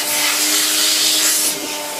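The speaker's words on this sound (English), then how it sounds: "the vacuum cleaner cleaned that" A vacuum cleaner sucks debris out of a blocked washing machine, a steady loud broadband rushing hiss with a faint whine, easing slightly near the end.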